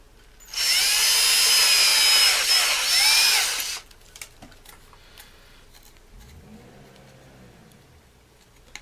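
A loud, high-pitched drill bores through PVC pipe for about three seconds, then stops, leaving quiet handling clicks and a faint low hum.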